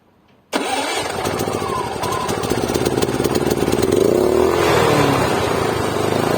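A Daewoo DAIG 3000 S inverter generator starts abruptly after near silence, its small engine catching at once and running loud and steady, rising slightly in pitch as it settles into a continuous buzzing idle.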